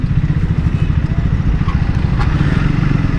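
A Triumph Speed 400 motorcycle ridden through city streets, its single-cylinder engine giving a loud, close, steady rapid thumping pulse throughout, with wind and road rumble mixed in.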